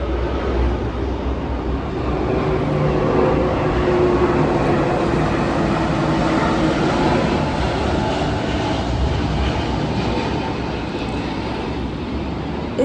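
A steady, broad roar of an airplane passing overhead at night, holding a constant rumbling level for several seconds without any voices.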